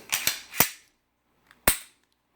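Racking the slide of a Smith & Wesson M&P45 pistol in burnt bronze: a quick cluster of sharp metallic clacks, then a pause and one more crisp clack, close and loud.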